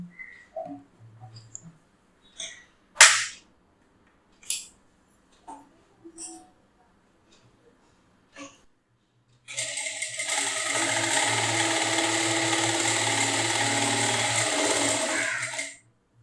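A power sewing machine stitching with red upper thread and black bobbin thread: scattered clicks and handling knocks first, then a loud, steady whirring run of stitching lasting several seconds close by.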